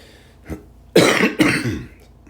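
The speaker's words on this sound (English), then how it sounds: "sorry, I've had a bad cough." A faint short throat sound, then two harsh, loud coughs in quick succession, close to the listener.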